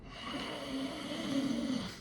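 A voice imitates snoring with a slow, deep, constricted breath through the nose and throat, rough and close.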